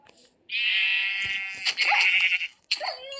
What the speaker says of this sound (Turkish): koyun hemen keselim